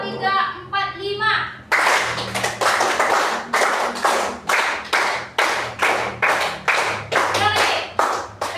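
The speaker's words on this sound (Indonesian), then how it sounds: "Tepuk 1, 2, 3, 4, 5." A group claps together in a counted rhythm, with sharp, loud, close claps in evenly spaced strokes. A voice speaks just before the clapping begins.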